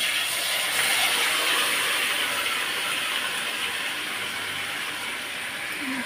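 Meat drops into hot oil spiced with dried chillies, cardamom and cinnamon, giving off a continuous, fairly loud sizzling hiss with no talking.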